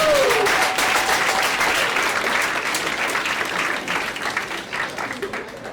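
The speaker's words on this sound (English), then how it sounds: "how about a round of applause for your stars?" A university audience applauds the volunteers at a live hypnosis show. The clapping is dense and sustained, fills the hall, and tapers slightly toward the end, with a faint voice briefly over it at the start.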